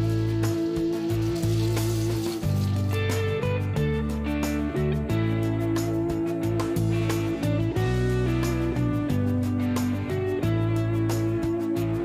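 Sliced onions fry with garlic in olive oil in a pan, giving a steady, close sizzle that runs throughout, with occasional stirring and no talk.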